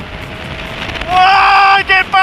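Suzuki GSX 750 motorcycle at speed on a race circuit, its engine whine rising loud and steady before a brief dip under braking and a quick return, with wind noise throughout.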